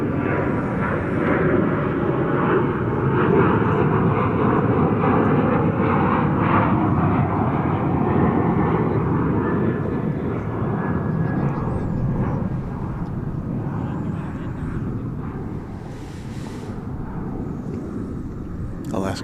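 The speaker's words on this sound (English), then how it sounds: "Alaska Flight 303 off to Portland, Oregon, a 737-900." An Alaska Boeing 737-900 jet departs on the runway at DFW airport, its engines producing a loud, sustained rumbling roar that slowly fades over twenty seconds, with talk heard over it.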